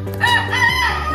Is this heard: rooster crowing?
yes